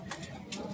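A ring-banded racing pigeon at dusk gives two short, faint coos spaced about half a second apart, heard close but soft with no talk.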